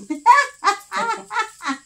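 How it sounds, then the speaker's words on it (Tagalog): A chicken clucks in a quick series of five loud, close, squawky calls, evenly spaced with short gaps between them. "May manok."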